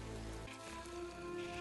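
Rain in a film scene from The Lord of the Rings: The Two Towers, a steady hiss of falling rain heard briefly and softly over a low background score, with no voices.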